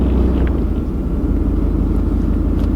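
A car's LB9/L98 Tuned Port Injection V8 engine idles in gear without throttle, giving a steady low rumble with an even pulsing beat, close and continuous, with no talking.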